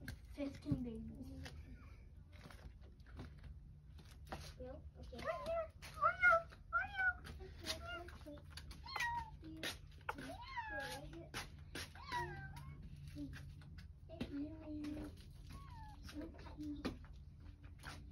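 A young kitten meows repeatedly in short, high, rising calls while trying to nurse from its mother cat, with brief pauses between cries and faint background noise throughout.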